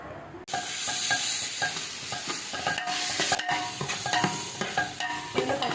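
Crushed green chili, ginger and garlic sautéing with onions for a Kerala-style biryani, a loud continuous sizzle with repeated scraping and clinking of a spoon against the pan, up close and without talk.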